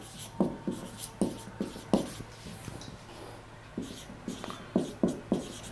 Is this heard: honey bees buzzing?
no